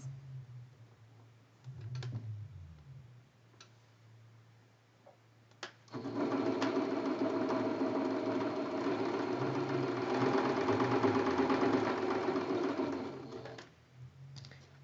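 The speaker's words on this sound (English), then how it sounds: "sewing this seam with a 1/4 inch seam allowance" A sewing machine stitches a quarter-inch seam joining two quilt blocks for a traditional double necktie block, running steadily and fairly loud for about eight seconds after quieter handling noises and a short start.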